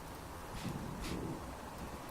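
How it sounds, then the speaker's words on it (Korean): Heavy rain from a mobile game scene, a continuous broadband hiss of falling drops with a slight swell in the middle, fairly quiet and uniform. "멍하니 바라본 하늘에서는 구멍이라도 뚫린 건지 제법 굵은 빗방울들이 시끄러운 소리를 내며 떨어지고 있었다."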